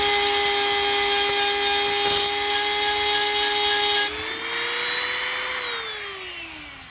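A handheld Dremel-style rotary tool grinds a groove into a wheel lock lug nut on a Ford truck, a loud, high steady whine that shifts pitch as the cut bites and then eases off.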